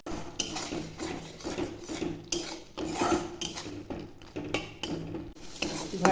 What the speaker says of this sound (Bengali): এবার বেটে রাখা কুমড়ো ফুলটা দিয়ে আরও ভেজে নেব।